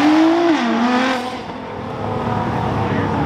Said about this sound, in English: It's the Liberty Walk GTR